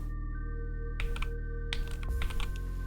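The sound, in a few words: typewriter sound effect in an Unreal game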